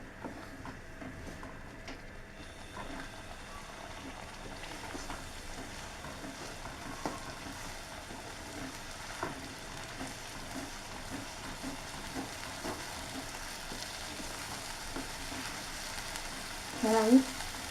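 Spices for kasundi fry gently over low heat, a soft continuous sizzle with occasional stirring scrapes and clicks, faint and steady, ending with a brief louder clatter.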